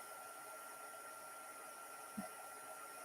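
Steady broadband rushing hiss of a heat tool blowing superheated air onto paper, constant and fairly quiet throughout, with one brief low thump partway through.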